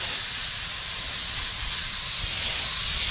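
A garden hose sprays water onto an outdoor AC condenser at a house, a loud, steady, close hiss with no break.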